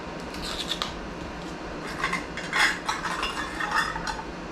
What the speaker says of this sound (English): I'm just going to mix these together and hope for the best.